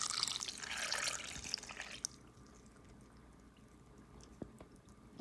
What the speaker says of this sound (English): And then we get the ice cold water.